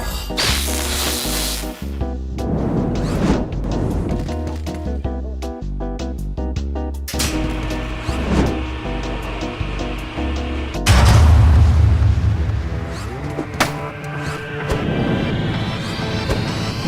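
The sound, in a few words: hammer smashing a robot in video game Clone Drone in the Danger Zone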